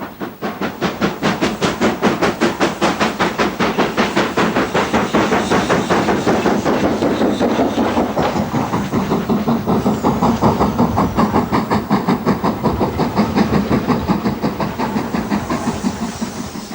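LMS steam locomotive 5025, built by Vulcan Foundry, works on the Strathspey Railway near Aviemore with a loud, rapid, steady exhaust beat and hiss, running close by throughout.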